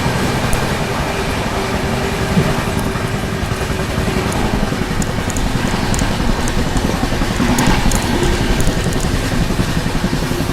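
CR Rajdhani Express train overtaking the Kamayani Express, a continuous loud rumble and rattle of wheels on rails with rhythmic clatter throughout, close by and steady.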